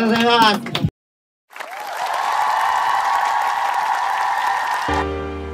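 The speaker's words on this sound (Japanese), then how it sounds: "大きな拍手お願いします" A crowd at a Japanese MC rap battle applauds and cheers in a continuous roar after a short burst of speech and a pause, with a beat cutting in at the end.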